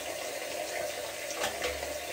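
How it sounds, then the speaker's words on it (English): Lukewarm tap water runs steadily into a sink during face washing, a continuous close hiss and splash with a couple of brief louder splashes near the end. "I do wash it with lukewarm water, not cold."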